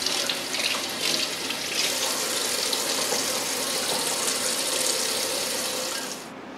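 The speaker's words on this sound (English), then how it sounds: "Putting it on the strainer like this lets the water drain out underneath." Rinse water draining from raw chicken pieces set in a strainer for oven-baked BBQ chicken, a steady close rushing trickle that runs without pause and drops off just before the end, with no talking.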